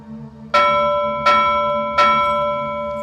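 A handheld bell is rung three times in a steady rhythm, each bright, close, ringing strike decaying slowly under a faint low hum, with no voices.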